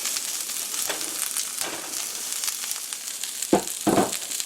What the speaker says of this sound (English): celery and onions and peppers in. And we're also going to put in our ginger and garlic.